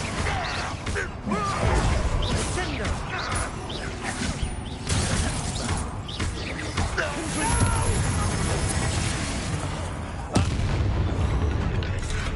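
Confringo spell blasts go off during a Hogwarts Legacy battle on PS5, with repeated booming crashes and shattering impacts in a dense, continuous mix alongside voices.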